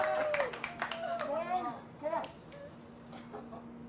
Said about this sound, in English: Family applauding